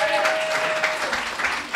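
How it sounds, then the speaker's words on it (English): Applause from an audience at a UPF event during a world tour stop in Great Britain, a steady wash of clapping under a voice talking over it. "I'm glad you're applauding"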